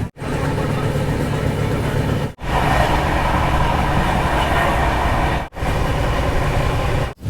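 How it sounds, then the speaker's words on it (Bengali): A train pulling into Bolpur Shantiniketan station, a loud close rolling rumble with rattling carriages, steady apart from a few brief abrupt breaks. "ট্রেন ঢুকছে বোলপুর"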